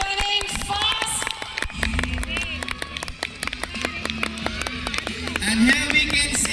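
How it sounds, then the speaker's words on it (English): Parents clap and cheer as children run a race at a school annual athletic meet in Ludhiana, bursts of rhythmic clapping and crowd noise under a loud announcer's voice on a public address. "Parents, kindly cheer them up as they are running fast."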